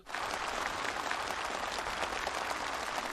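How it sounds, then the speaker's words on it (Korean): Participants at a rural housing handover ceremony burst into enthusiastic applause, a thick, even roar of many hands clapping throughout, with no talking. "살림집 이용 허가증이 참가자들의 열렬한 박수 속에 전달되고"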